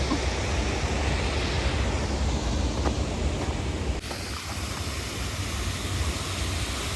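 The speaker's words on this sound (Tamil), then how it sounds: "இந்த தண்ணி ஓடுற சத்தம் வந்து மனதுக்கு அவ்வளவு ரிலாக்ஸாக இருக்குது" Flowing water in an outdoor nature setting makes a steady, loud, close rushing wash that continues unbroken throughout, with no voices.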